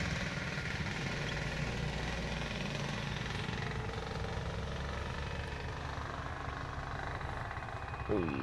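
A motorcycle engine runs at a distance as a faint, steady drone, with soft voices mixed in the background.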